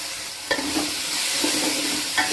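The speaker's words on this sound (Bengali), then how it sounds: "এই যে নাড়াচাড়া দিয়ে মশলাটা কষানো হচ্ছে" Masala spices are stirred and fried in a pan, with a steady close sizzle and a few sharp spatula scrapes against the metal.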